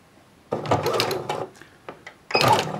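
A home sewing machine stitches an understitch seam on a pair of shorts, running in two close whirring bursts with a short pause and a few clicks between them.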